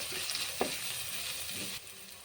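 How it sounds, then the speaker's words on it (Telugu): Onions with ginger garlic paste and turmeric sizzle in a pan, a soft continuous hiss broken by a spoon knocking and scraping as the mixture is stirred. "ఇందులో ఇప్పుడు ఆనియన్ వేసుకుందాం అల్లం వెల్లుల్లి పేస్ట్ వేసుకుందాం"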